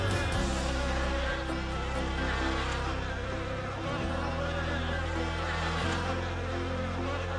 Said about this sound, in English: Look at how many bees there are.